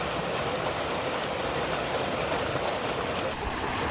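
Water pours steadily into a small fish farm in the Kiso Valley, Japan, a constant close rushing hiss with no pauses and no voices.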